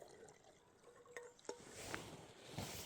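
Melted snow water is poured into a container at a cold winter bushcraft camp, giving a faint, quiet trickle and splash that grows into a fuller liquid rush near the end.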